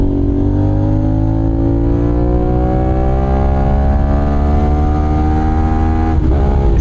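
Kawasaki 450NK motorcycle engine roaring loud and close as it accelerates hard on an open road, harmonic pitch climbing steadily through the gears with a brief shift near the end.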